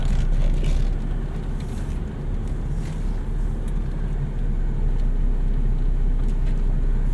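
A 1991 Honda Civic Si EF hatchback drives along, its engine a steady low drone with road rumble and wind noise inside the cabin and no talk.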